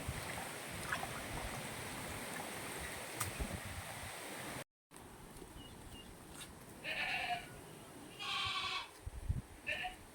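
Goats bleat faintly in the distance, several short calls in a row over a steady outdoor hiss, following a quiet stretch of background noise.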